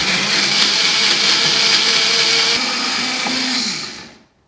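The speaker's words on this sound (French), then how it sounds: "Maintenant, on met ça au mixeur." A small blender whirs loudly and steadily while blending a cashew provençale sauce, its motor holding a constant roar before winding down and stopping.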